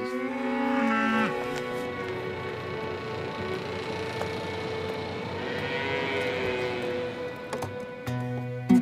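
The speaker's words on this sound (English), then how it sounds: "Come on, cows. Come on, girls. Let's go. Hey, you cows." Cattle lowing on a farm of about 150 acres on a ridge above Seneca Lake, several long moos rising one after another over steady low background noise.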